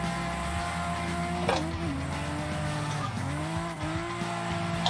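A Toyota Cresta JZX100 drifting on a track revs and rises under throttle, its engine tone swooping up and down while tires squeal in a sustained, close-up howl.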